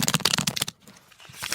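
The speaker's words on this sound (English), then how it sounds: "Go on then, shuffle the pack." A pack of playing cards is shuffled close up in a rapid flurry of riffling clicks, a brief pause, then more ruffling as the shuffle resumes.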